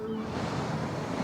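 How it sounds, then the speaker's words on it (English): Sea waves wash against a sea wall at Cleveleys near Blackpool in a steady, broad rush of surf with some wind, fairly faint and without voices. "These waves are pretty awesome."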